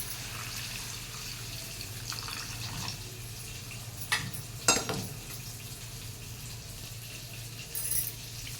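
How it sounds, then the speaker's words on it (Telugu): Water poured into a cooking pot of Nellore-style fish curry (chepala pulusu) with tamarind, a faint splashing and trickling that rises in two short bursts over low kitchen hum, with no one talking. "ఇదిగోండి నేను వాటర్ వేసుకుంటున్నాను చూడండి"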